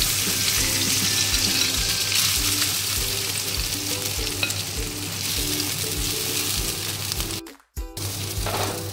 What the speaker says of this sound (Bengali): এলাচ, লবঙ্গ আর দারচিনি দিয়ে দিলাম তেলে